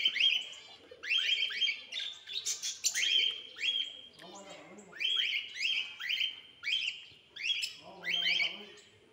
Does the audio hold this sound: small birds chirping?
yes